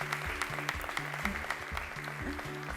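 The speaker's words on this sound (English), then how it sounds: "Let's keep clapping for them" Audience clapping for contestants at a school cooking competition, steady and moderately loud, mixed with rhythmic music.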